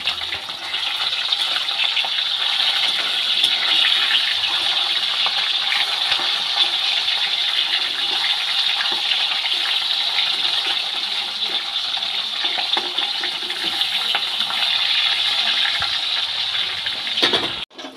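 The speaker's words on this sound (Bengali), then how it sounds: "মাছগুলো এক পিঠ ভাজা হয়ে গেছে, এবার একটু উল্টে দেবো।" Flipped rohu fish pieces keep frying in hot mustard oil in a kadai, producing a continuous, loud sizzling hiss with faint pops, steady throughout until it cuts off at the very end.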